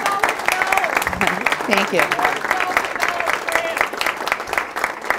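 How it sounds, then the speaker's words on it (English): Audience applause at a community talk on coal ash, moderately loud clapping that runs under a voice speaking over it throughout. "Let's give a round of applause for that."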